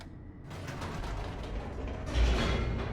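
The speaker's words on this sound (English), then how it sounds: "The elevator raced downward" An elevator mechanism in The Stanley Parable grinds downward with a steady creaking, ratcheting rumble of gears and pulleys, starting abruptly and swelling louder near the end, with no voices.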